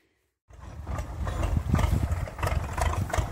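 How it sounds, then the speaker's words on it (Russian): A tractor engine idles in a village, rising from silence into a steady low diesel rumble that stays fairly loud and even throughout. "Вот приехал Саша Гостеев трактором."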